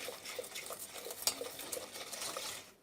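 A spoon stirs egg yolk into a flour, starch and sugar mixture in a cup for a quick milk dessert, giving soft scraping and light clinks against the container, faint and close.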